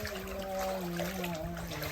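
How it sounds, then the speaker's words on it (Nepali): Water runs across a soaked, muddy hillside slope in a monsoon downpour, a steady close trickling flow carrying faint, wavering tonal hums throughout. "यहाँ धापमा यस्तो पानी बग्दैछ"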